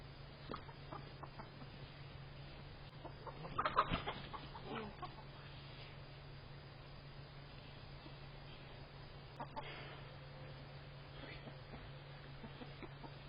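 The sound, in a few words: chickens clucking in the coop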